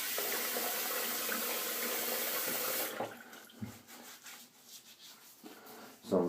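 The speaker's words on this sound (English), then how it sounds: "Get my face wet." Water runs steadily from a bathroom tap for a few seconds to wet a face before shaving, then cuts off, leaving scattered splashes and drips with one more splash at the end.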